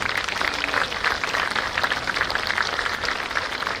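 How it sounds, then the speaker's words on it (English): A crowd applauds at a boys varsity lacrosse game, steady dense clapping from many hands at moderate distance, continuous for the whole stretch without voices standing out. "So we should give a round of applause to them."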